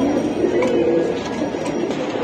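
At a busy pigeon market, pigeons coo in a low, continuous murmur that sounds close and fairly loud. No other sound stands out.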